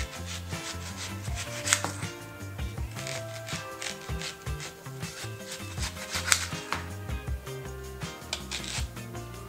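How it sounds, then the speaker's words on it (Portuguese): A knife slices an onion into rings about a finger thick on a cutting board, with a close run of irregular chops and scraping strokes and no speech. "E para as onion rings, a gente precisa cortar a cebola nos anéis."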